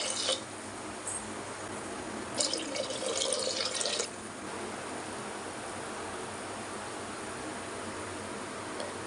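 Water being poured into a pot for cooking tomato rice: a short, bright splashing pour of about a second and a half in the middle, set against a steady low hiss with no talking.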